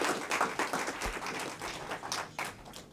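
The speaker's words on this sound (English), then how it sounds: "Let's give him a round of applause" A formal evening audience at a prime minister's event claps for an introduced foreign minister, giving a moderate, uneven burst of clapping that sounds somewhat distant.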